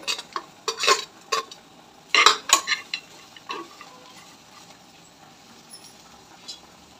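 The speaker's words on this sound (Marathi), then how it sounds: "आता आपण हे मसाले सगळे भाजून घेऊया" Spices dry-roasting with onion and dry coconut in a pan: sharp metallic scrapes and clinks come in bursts during the first half, then fade to a quiet, faint rustle.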